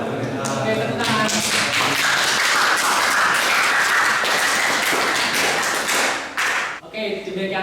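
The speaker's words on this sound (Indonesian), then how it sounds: "tepuk tangan" A class of students applauds together at the close of a school lesson, dense steady clapping that fills most of the stretch before thinning out, with faint talk beneath.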